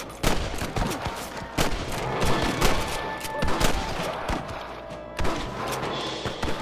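Rapid gunfire in the Red Dead Redemption Western video game, a dense volley of loud shots and heavy thuds cracking at irregular intervals throughout.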